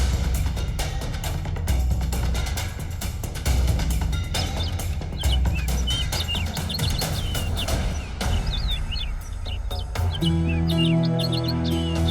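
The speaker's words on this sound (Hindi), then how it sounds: "ये चिड़िया बहुत देर से आपको आगाह करने की कोशिश कर रही थी।" Bird chirping a warning, a series of short, bright tweets repeating over a dense, loud backdrop of dramatic music, with the calls growing clearer toward the end as the music changes.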